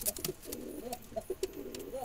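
Wild Jalali pigeons kept in a basket give soft, repeated low coos in short irregular bursts over faint background noise.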